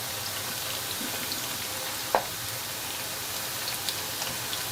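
Tempeh pieces frying in hot oil, a soft, even hiss of bubbling fat with a faint clink of a slotted spoon midway and occasional small pops, no talking.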